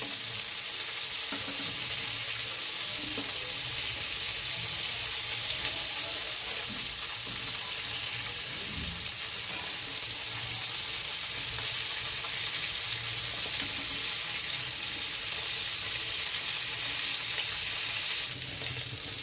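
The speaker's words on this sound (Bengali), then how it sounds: "চিংড়ি মাছের একটা সাইড ভাজা হয়ে গেছে, অপর সাইডটা ভাজার জন্য উল্টে দিচ্ছি।" Giant freshwater prawns for a coconut-milk malai curry fry in a pan after being flipped to cook the other side, giving a steady, close, unbroken sizzle that holds evenly for the whole stretch with no talking.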